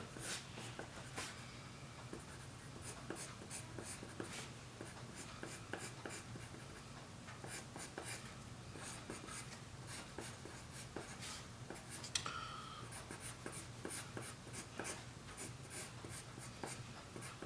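A pencil sketches lines on paper while a cartoon character is drawn, close scratchy strokes in quick uneven bursts continuing throughout, quiet and alone with no talk.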